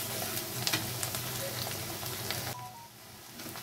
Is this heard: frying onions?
yes